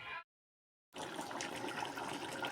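Water poured into a cooking pot over toasted freekeh and meat, a steady gushing rush that starts after a brief silence and runs evenly to the end.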